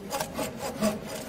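A Makita saw cuts through wood, giving a continuous rasping, rubbing stroke sound at close range with a couple of stronger pulses and no talking.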